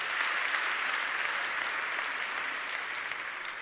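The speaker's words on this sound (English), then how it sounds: "A big round of applause for my volunteer." A comedy show audience claps for a volunteer brought up on stage; dense, even applause fills the room at steady volume and eases off slightly near the end.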